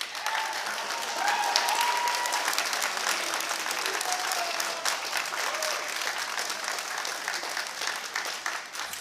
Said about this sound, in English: show your appreciation to all the loved ones in the room who've supported you by a way of a round of applause